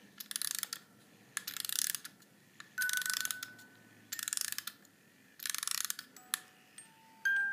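Bursts of rapid ratcheting clicks repeat in short turns with pauses between, close and fairly quiet, as a small music box mechanism is wound by hand.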